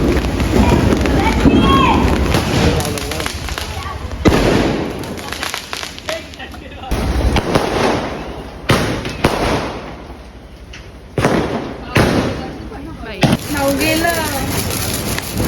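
Loud firecrackers bang and crackle in rapid bursts on Lakshmi Puja day in the rain, some close, with shouting voices in between and a steady high whine in the background.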